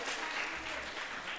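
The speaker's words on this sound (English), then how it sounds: "who you can applaud for Hannah." Brief burst of applause from a Shabbat service congregation welcoming Rabbi Hannah Bender, a dense, even patter of clapping across the short moment.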